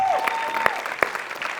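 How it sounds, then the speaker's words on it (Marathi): A studio audience bursts into brief, dense applause for a comedy performer, a burst of claps with a few sharper peaks, fairly loud and close over a faint tonal hum. "श्याम्या, तुझ्यासाठी टाळ्या वाजल्या पाहिजे"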